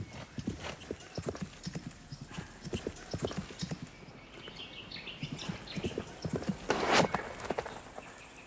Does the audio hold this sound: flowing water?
no